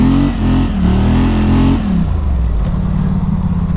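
A scrambler motorcycle on pitbull tires revs on snow. The engine is loud and close, with a sustained rev that climbs, then drops back to a lower, steady idle-like drone.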